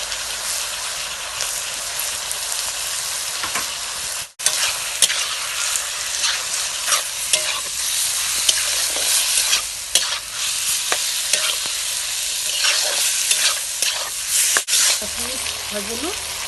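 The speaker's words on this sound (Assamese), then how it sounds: "ভাজিলোঁ নিমখ হালধি দি" Duck curry seasoned with salt and turmeric sizzles steadily in a pan while a spatula stirs and scrapes through it, loud and continuous, with brief voices.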